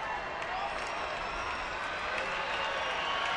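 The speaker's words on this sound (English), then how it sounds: "Crowd trying to get into it here." A baseball stadium crowd cheers and claps in a faint, steady wash of noise that holds evenly throughout, with no single shout standing out.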